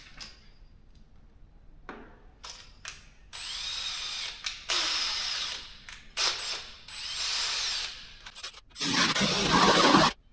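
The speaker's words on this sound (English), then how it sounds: "these ones here I'm going to drill big" A power drill boring holes for a wide fender bracket on a Jeep JK Wrangler, in several bursts of whining, grinding drilling separated by short pauses, loud and close, with ratcheting clicks between runs.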